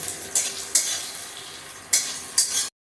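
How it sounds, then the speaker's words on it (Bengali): Onions frying with spices in a pan for a fish-head curry, sizzling steadily while a spoon stirs in several sharp bursts of scraping, close up and without talk. "অল্প একটু পেঁয়াজটা বাদামি কালার হয়ে আসলে মশলাটা দিয়ে দিচ্ছি"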